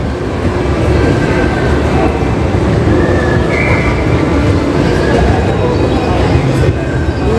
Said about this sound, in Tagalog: Oh, ito yung train, diba?